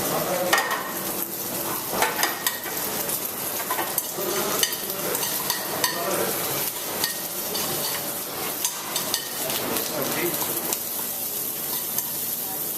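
Mustard seeds, cumin, chopped ginger and curry leaves sizzle and crackle loudly in hot oil in a hotel kitchen, with a spoon stirring and scraping the pan throughout.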